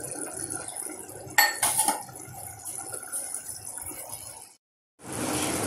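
Paneer is dropped into a pan of pea curry with metallic clinks and a clatter from a utensil against the pan, followed by soft sizzling, close by. The sound is briefly cut, then resumes as a steady hiss.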